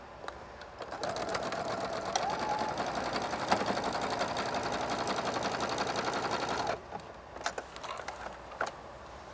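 A sewing machine stitches along the edge of a canvas bag in a fast, even mechanical chatter lasting about six seconds. A few soft handling clicks and taps follow once the stitching stops.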